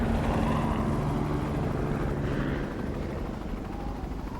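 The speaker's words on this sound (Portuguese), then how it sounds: "Um helicóptero de busca e resgate passou a poucos metros do topo do cânion deles." A search and rescue helicopter roars close overhead above a canyon, its rotor thudding beneath a loud, steady engine rumble that eases slightly as it moves on.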